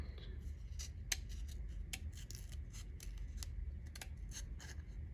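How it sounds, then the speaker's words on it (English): Scissors snip repeatedly through paperboard while cutting out the inside section of a folded paper Easter pillow treat box, a steady series of close, crisp cuts over a low background hum. "Get your scissors inside there, and you can cut out that inside section."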